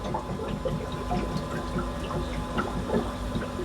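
A small aquarium auto top-off pump hums steadily with trickling, bubbling water over it, a constant low mechanical drone heard up close.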